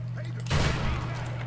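A single loud gunshot cracks out in Tomb Raider (2013), with a short burst and decaying echo over a steady low game hum.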